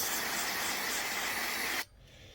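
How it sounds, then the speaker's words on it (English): Brake cleaner sprayed onto a metal exhaust part of a Volvo 940 to degrease it, a close, steady aerosol hiss lasting nearly two seconds before stopping abruptly into quiet room tone. "go over the surface with a bit of brake cleaner, just for degreasing effect"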